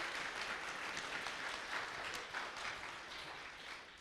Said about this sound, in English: A round of applause, please, for the winning team.